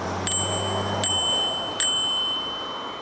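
A small bicycle bell rings three times in sharp, bright dings with gaps between them, each tone ringing on briefly over a low background rumble.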